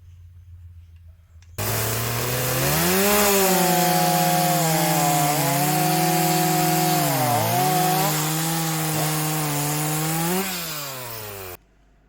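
A 52cc clone chainsaw fitted with a big carburettor cuts through wood after a quiet start, its engine holding a loud, steady, near buzz under load for about nine seconds before abruptly stopping.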